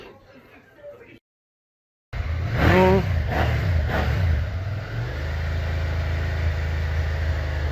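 A Suzuki Gladius motorcycle engine, freshly repaired after a coolant spill, fires up after a short silence, revs sharply a few times, then settles into a steady, loud idle nearby.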